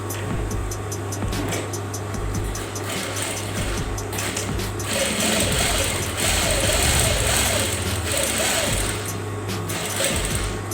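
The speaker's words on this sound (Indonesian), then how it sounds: "Kita sekarang menjahit sakunya, itu kita paskan posisinya" A sewing machine stitches the pocket onto a jumper hoodie, a steady motorized hum with rapid needle chatter running continuously at close range.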